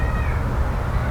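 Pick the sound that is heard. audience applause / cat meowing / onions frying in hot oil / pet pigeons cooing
cat meowing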